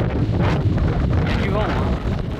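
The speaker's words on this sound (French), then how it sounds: "Il y a du vent, hein." Strong wind in the Atacama Desert buffets the microphone in a steady, loud low rumble, with a faint voice briefly surfacing beneath the gusts.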